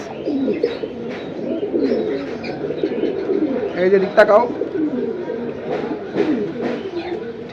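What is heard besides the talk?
pigeons cooing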